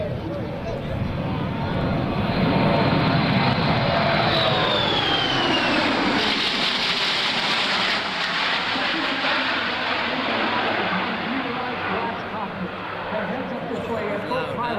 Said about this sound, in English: He'll pass at about 250 knots or close to 300 miles an hour, demonstrating the rapid strategic capability of the Globemaster 3.